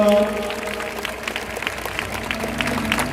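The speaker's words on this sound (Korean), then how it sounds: "박수를 올려드리겠습니다" Crowd applause at a large outdoor Korean church joint worship service in Seoul Plaza, scattered clapping that continues steadily, with brief tones and murmuring at the start.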